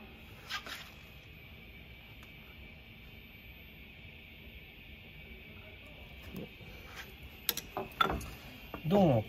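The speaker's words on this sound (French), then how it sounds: "vous allez tourner la poulie graduée pour faire descendre l'aiguille" Graduated pulley turned by hand on a Barudan multi-head embroidery machine, soft clicking ratchet and gear sounds, faint and intermittent over a steady hum, with a few sharper mechanical clicks near the end.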